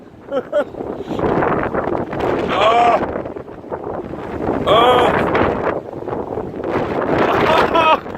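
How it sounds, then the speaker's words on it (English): Strong wind storm with gusts around 50 mph roaring and buffeting the microphone, with a person's voice exclaiming over the blasts. "here comes about a 50 mile an hour gust."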